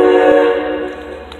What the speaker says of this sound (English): Comes a diesel train.